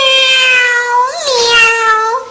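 A young girl imitates a cat, giving one long, high, wavering meow with a brief upward inflection in the middle, close and clear with no other sound.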